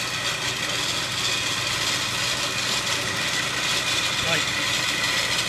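Brand-new winch on an FJ40 spooling on 95 feet of new cable, a steady continuous motor drone with an engine running beneath, loud and close, while someone briefly speaks.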